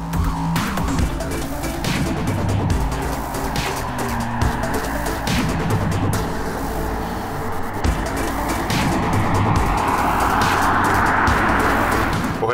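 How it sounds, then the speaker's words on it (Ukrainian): A BMW X4 M40i driving hard, its engine roaring continuously with repeated sharp exhaust pops and crackles at each gear shift, close and loud throughout, with tire noise building toward the end. "мені дуже подобається, як відстрілюється вихлопна система, коли коробка передач переходить на наступну швидкість"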